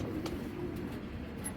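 A pair of silver pigeons coo softly in a short, low murmuring phrase against faint background noise, with no speech.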